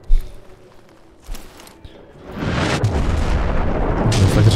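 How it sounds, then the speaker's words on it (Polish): A thump is followed by a growing, rumbling roar of explosions in the video game Deathloop, which stays loud and continuous to the end. "Fakt, że coraz gorsze są te wybuchy."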